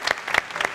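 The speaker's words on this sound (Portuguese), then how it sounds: "não queria pedir que a igreja aplaudisse também" Brief bursts of clapping from a church congregation, a few quick claps close together, short and moderately loud.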